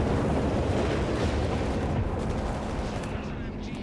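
Dense, continuous battle noise of gunfire and artillery fills Company of Heroes 3 gameplay, with booms and rattling shots blurring into a loud, steady roar, and a voice talking faintly beneath it.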